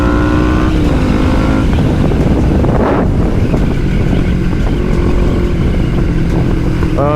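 A carbureted motorcycle engine drones steadily while riding, with constant wind rush over the microphone and gear-shift pitch changes partway through, loud and close throughout.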